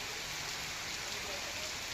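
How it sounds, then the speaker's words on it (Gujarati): Rain falling steadily after heavy wind over a Gujarat village area at evening, a broad even hiss filling the scene from start to finish at moderate level, with no distinct voices. "ભારે પવન બાદ વરસાદ વરસવાનું શરૂ થયું"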